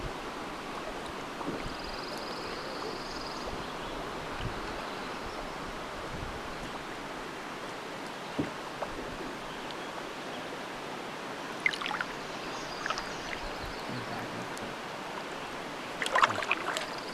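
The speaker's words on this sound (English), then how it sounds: "We got through the creek with no problem. Lots of water going through it." Water flowing through a creek on a Killarney canoe trip, a faint, steady, continuous rushing murmur with a few small knocks and splashes, no voices.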